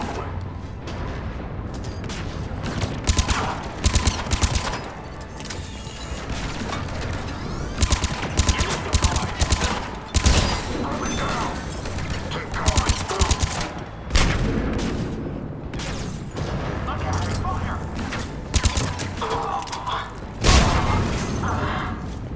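Heavy cannon fire booms repeatedly in a Mass Effect 3 battle, loud bursts of blasts and gunfire overlapping in dense, irregular volleys with occasional voices underneath.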